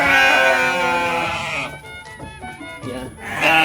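A mother goat, with a kid born about two weeks earlier, bleats loudly and close by in one long, wavering, nasal cry that fades and then rises again at the end.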